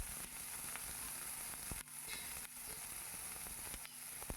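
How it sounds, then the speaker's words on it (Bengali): Cut potatoes and four green chillies frying in oil in a pan, a soft, constant sizzle with scattered faint pops and occasional light stirring taps, fairly quiet and without voices. "দিয়ে দিলাম 4টা কাঁচা লঙ্কা আর আলুগুলোকে আমি ভালো করে ভেজে নেব।"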